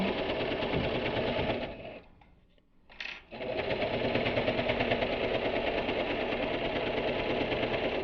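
Sewing machine stitching a fabric pencil case, running loud and steady with a fast mechanical chatter, briefly stopping for about a second before resuming at full speed, with no talking.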